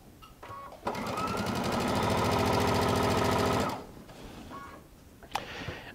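A sewing machine stitches quilt pieces in one loud, continuous, rapid run of close mechanical chatter lasting about three seconds. Quiet clicks and handling noises come before and after it.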